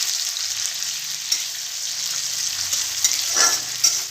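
Onions frying in a kadai for an Odia dahi chicken curry give a steady, close sizzle with occasional spatter pops and stirring scrapes throughout.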